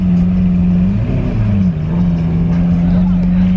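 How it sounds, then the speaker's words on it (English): A Lamborghini at a car meet runs with a loud, steady engine drone that swells and dips briefly early on, while people talk nearby. "Rev it again, bro, rev it again."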